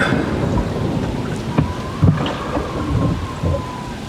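A thunderstorm at sea with heavy rain pours down steadily, while sharp thunder cracks land close by amid a constant loud hiss of rainfall, with no voices.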